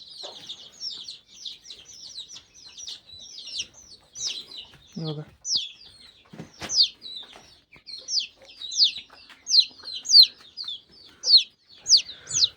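Desi hens with their chicks: close, repeated high peeping comes in quick bursts that grow louder and denser, with a brief voice speaking among them.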